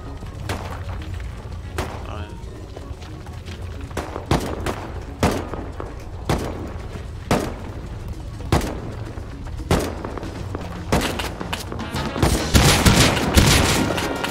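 Rapid gunfire in Rust during a fight with a large clan, a long run of sharp shots spaced roughly a second apart that speeds into a dense volley at the end, over steady game noise and voices.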